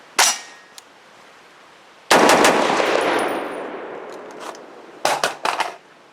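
Rifle shots from a Brownell's BRN-10 AR-10-style rifle crack out loud and close: a single shot, then a long ringing report, then a quick burst of several shots near the end.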